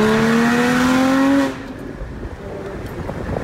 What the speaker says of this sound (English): This thing has full exhaust, Dundon headers, Dundon Motorsports tune,